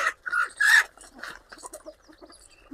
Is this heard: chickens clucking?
yes